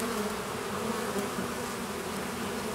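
Bees buzz in a dense, steady drone around a wagon near their hive, loud and continuous with no pauses and no talk.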